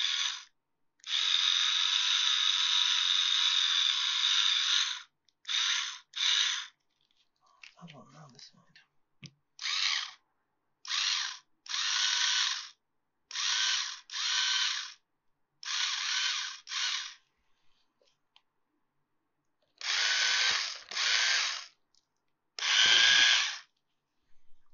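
Buzzing electronic drill and ratchet effects from a mechanic game tightening joints on a machine, repeated in short bursts and one long whir, separated by silences, with brief faint clicks between.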